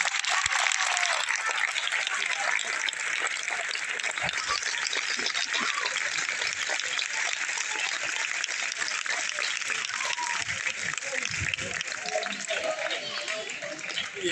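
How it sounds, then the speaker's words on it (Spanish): Audience at a primary school graduation ceremony applauding a departing pupil, a dense, sustained roar of clapping from many hands that holds steady and loud for the whole stretch. "Por favor, un aplauso para ela."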